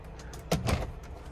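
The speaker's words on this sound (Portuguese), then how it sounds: "Aqui tem gavetas. Olha. Também bem funda." A drawer in a truck cab slides open with a short, close scraping rattle and a soft knock, brief and alone against quiet cab background.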